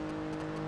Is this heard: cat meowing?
no